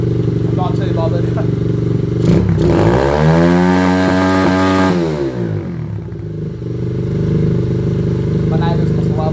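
A Chinese motorbike engine idles steadily nearby, then revs up and drops back in one smooth swell before settling into an even idle again; faint talk may sit underneath.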